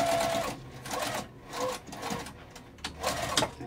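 A sewing machine back stitches along a zipper pouch in several quick bursts of close, steady mechanical whirring, separated by short pauses with no talk.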